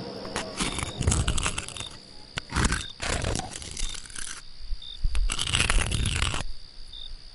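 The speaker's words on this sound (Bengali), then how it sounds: "মনে হলো কেউ নখ দিয়ে আঁচড়াচ্ছে।" Nails scratching along a train carriage wall in repeated harsh, rasping bursts of one to two seconds each, separated by short pauses, loud and close, with a faint electrical whine behind.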